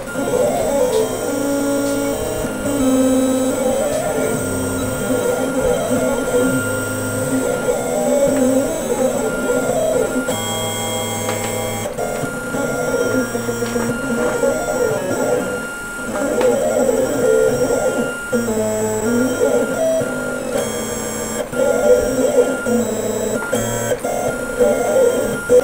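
Vinyl plotter cutting a design for a tote bag, a steady mechanical whir and stepping hum running continuously with intermittent beeps and clicks, fairly loud and close throughout.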